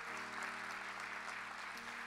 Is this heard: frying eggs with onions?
no